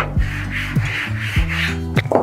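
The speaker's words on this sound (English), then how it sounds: "turn over the dough, put some flour" A rolling pin works pastry dough for Portuguese custard tarts on a floured surface, giving a series of soft rubbing, rumbling strokes in a steady back-and-forth rhythm, close and alone.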